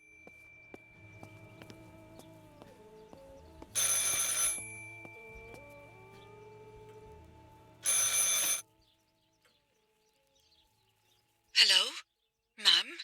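A telephone in the video game Martha Is Dead rings in two long bursts of bright trilling bells, followed later by two short rings, over a quiet, faint tonal game ambience with sparse sounds.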